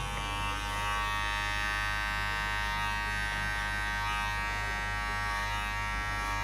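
Electric hair clippers fitted with a 1.5 guard cutting a girl's hair for a skin fade at a barber, a steady close buzzing hum throughout with no talk.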